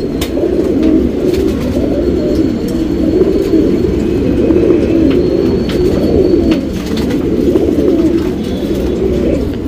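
Pigeons coo steadily in a pigeon loft, a dense overlapping chorus of low rolling calls that continues without a break, close and fairly loud, with no speech.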